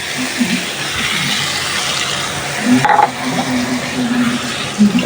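Water pours into a cooking pot of potato curry with a continuous rushing splash, close and loud, with a faint metallic clink midway.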